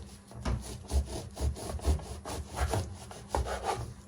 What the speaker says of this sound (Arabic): هجيب بقى السكينه بتاعتي وابتدي اقطع الجلاش عباره عن شرايط كده